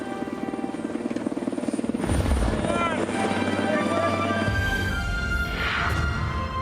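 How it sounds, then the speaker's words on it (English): A helicopter's rotor thumps and whines loudly in a Kyrgyzstan blizzard, drawing nearer and rising in intensity, with excited voices talking over it. "it was a great feeling to see that helicopter come in."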